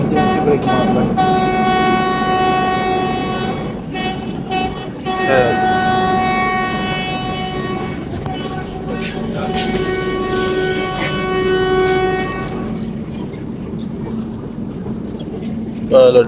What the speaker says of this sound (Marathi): ट्रेनने इमर्जन्सी ब्रेक मारला पुढं.